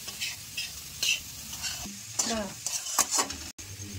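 Vegetables stir-fried in a pan over low heat for veg momo filling, sizzling steadily with scraping stirring strokes and a few metallic clinks, close and alone.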